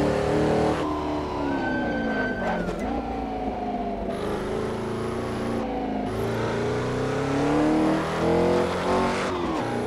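A 1964 Porsche 904/8 race car with a 225 bhp flat-eight engine, heard from on board while driving, its loud steady drone rising and falling through gear changes and revs without a break.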